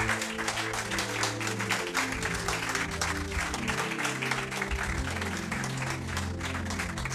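A church congregation applauds the word of the Lord with steady, sustained clapping from many hands, joined by background music and moderately distant.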